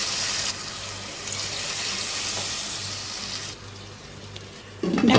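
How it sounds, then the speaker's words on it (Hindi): Two cups of water poured into a pot of aloo pulao, a steady close watery rush and splash with hissing sizzle from the hot pot, the flow stopping briefly partway and ending in a louder burst. "अब इसमें शामिल करना है 2 कप पानी।"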